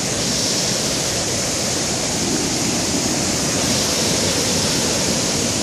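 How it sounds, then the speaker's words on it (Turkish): Rushing water from the top of Erikli waterfall roars in a steady, dense wash, loud and close, with no voices over it. "Biraz önceki şelalenin üstündeyim,"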